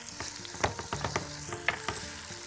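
Whole spices and fresh minced ginger frying in a pot for saffron rice, a continuous sizzle broken by several sharp spoon scrapes and knocks against the pot, close up with no voices.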